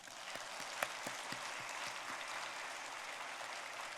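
Church congregation applauding during a Sunday service, a dense, steady wash of many hands clapping at moderate distance with a few sharper individual claps standing out, no voices over it.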